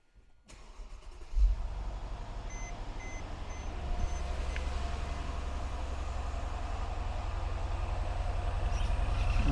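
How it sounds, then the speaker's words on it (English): A cold 2013 Mercedes-Benz E550 4Matic AMG Sport V8 cranks and catches, then settles into a steady, close idle that hums on without break, with no talking. "time to start the engine"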